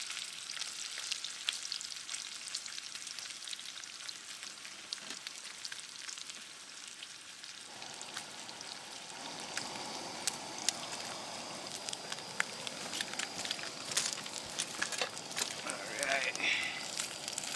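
Bacon frying in a pan while bannock sandwiches are made, a continuous crackling sizzle with sharp pops throughout, and someone briefly speaks over it.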